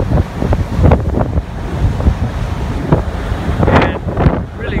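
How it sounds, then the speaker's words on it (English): Strong wind buffets the microphone in heavy gusts on the deck of a ferry from Okinawa to Kyushu, over a steady rush of water and waves, with no clear voices. "And really windy out here."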